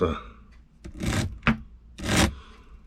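A hand file works a chainsaw chain to take off burrs, giving a few short rasping strokes in an uneven rhythm, close by, with a person speaking between them.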